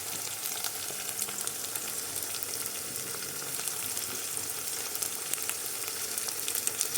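Onions frying in a pan while an eggplant dish is cooked, a steady crackling sizzle throughout, close and even, with no talking.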